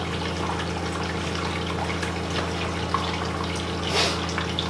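Water runs steadily into a sink inside a homemade RV built on a 1977 Peterbilt 359, a continuous close splashing and gurgling under a low constant hum.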